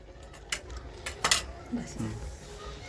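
A vegetable dish made with curd instead of oil being stirred in a pot for the Rishi Panchami festival, with a few clinks of utensil against metal and soft scraping, fairly close, while a voice talks in the background.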